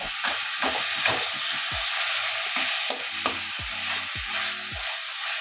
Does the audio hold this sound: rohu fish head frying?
yes